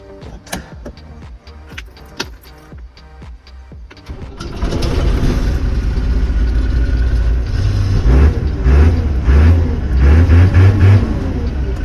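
A few metallic clicks and clunks, then the heavy engine of a Claas Dominator 68 combine harvester cranks and catches, settling into a loud, steady diesel rumble with uneven throbbing.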